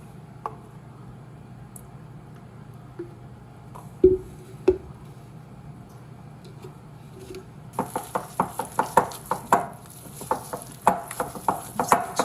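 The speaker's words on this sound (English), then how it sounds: "Give it a good stir." Cookie dough with maple syrup stirred in a bowl, quiet at first with a couple of knocks, then a run of rhythmic wet squishing strokes, close and moderately loud.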